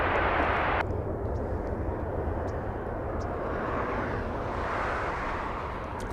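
A SkyWest airliner touching down at LAX, a steady loud roar of engines and rushing air with a brief hiss that cuts off early, sustained throughout with no talk.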